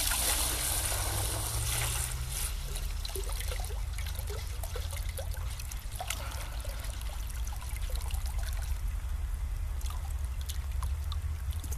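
Water from a well pump pours into a 12-litre bucket, a steady close splashing trickle with slight gurgling shifts as the bucket fills, continuous and alone.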